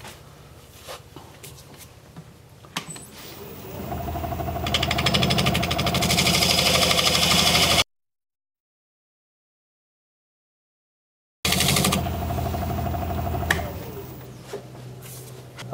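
Redwood is turned on a lathe with a half-inch spindle gouge, giving a loud, close, rough cutting roar that builds and then cuts out to silence before resuming. No voices are heard.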